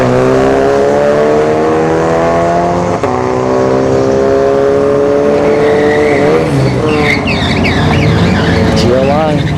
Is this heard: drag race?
yes